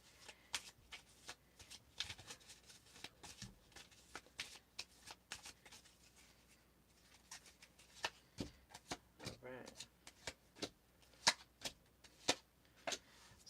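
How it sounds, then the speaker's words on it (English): A deck of tarot cards is shuffled in quick bursts of crisp riffling and tapping, close and fairly quiet, with short pauses between rounds. "I'll draw 5 more cards just to get a little clarification on this"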